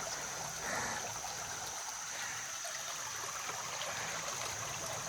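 River water flowing steadily along the Roaring Run Trail in Apollo, Pennsylvania, a continuous rushing wash with a bright hiss, moderately close and even, with no talk over it.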